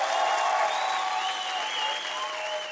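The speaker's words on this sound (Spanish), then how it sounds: "fuerte aplauso a Papá Dios" Loud, sustained applause from an audience at a comedy storytelling show, a continuous wash of clapping with a tonal layer running through it, steady throughout.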